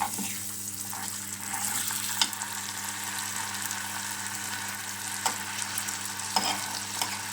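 Butter dropped into melting sugar in a home kitchen pan gives a steady hiss and bubbling sizzle, with a few faint utensil clinks against the pan, continuous and close, no voices.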